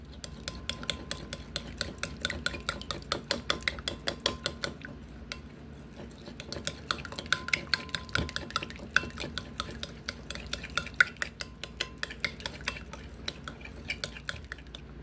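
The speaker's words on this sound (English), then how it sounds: "we'll give this a mix, and we'll taste it and see how it tastes" A utensil stirs ingredients in a bowl, clinking rhythmically against the sides in quick, repeated taps that run steadily throughout at close range with no voices.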